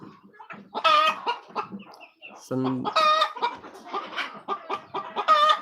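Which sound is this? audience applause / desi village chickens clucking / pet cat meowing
desi village chickens clucking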